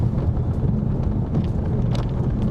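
Steady low rumble inside a moving 2010 Dacia Duster dCi 110 4x4 with the windows shut, a constant engine and road drone with faint rattles, no one speaking.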